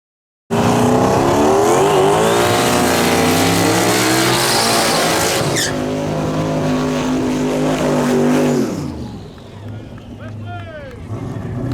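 Turbocharged Mustang drag race cars accelerating hard at a Carolina Cash Days small-tire drag race, a loud sustained roar with rising pitch sweeps that cuts off abruptly near the end, leaving quieter background noise with voices.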